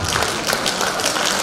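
A large crowd applauding at a Chinese New Year gala in New York, steady dense clapping filling the hall, loud and close throughout.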